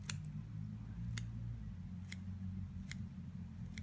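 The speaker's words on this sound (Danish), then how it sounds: "Så vi tager lige vores saks her ned til omkring, hvor vi går på kuglekædehovedet." Scissors cutting through a metal ball chain, heard as a few sharp, quiet clicks at fairly even intervals over a low background hum.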